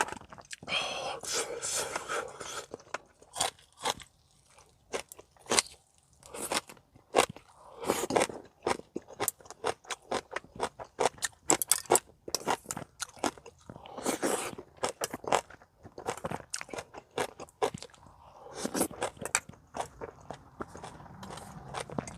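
Close, wet chewing and crunching of winter seafood picked from a drained sea cliff, with dense irregular bites and crackles that go on throughout, broken by a few short pauses.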